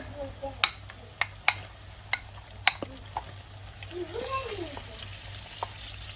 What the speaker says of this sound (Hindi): अब इसमें डालेंगे हम जनाब अपना चिकन।